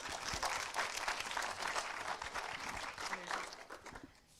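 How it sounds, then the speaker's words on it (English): Audience applause after a public presentation at an awards event, a dense, fairly faint wash of clapping from a crowd that holds steady and then fades at the end. "let's give her a round of applause"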